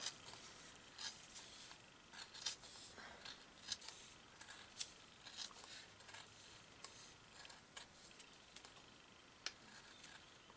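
Scissors snip through felt in a quick series of quiet, close cuts, steady and unhurried, with no voices.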